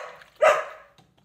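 A single dog bark, close and fairly loud, in a kitchen where vegetable taco soup with beans is being eaten, followed by quiet faint rustling.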